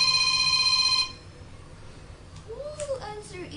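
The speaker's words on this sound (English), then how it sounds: "Jamie, please answer the phone" A telephone rings with steady electronic tones for about a second, then stops, leaving quiet room noise and a faint voice-like sound afterward.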